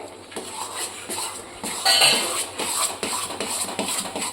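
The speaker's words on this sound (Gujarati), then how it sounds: "આ રીતે આપણે બધી બાજુ ફેરવતું જવાનું આવે તો અને હલાવતું જવાનું સખત હલાવ્યા કરવાનું" A spoon repeatedly scrapes and knocks against a pan in a steady stirring rhythm as flour roasts with fresh milk cream for mohanthal, close and fairly loud, with no talking.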